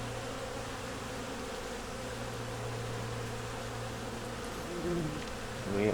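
Honey bees buzz steadily around a hive frame, a dense close drone filling the whole stretch, with a few louder passes near the end.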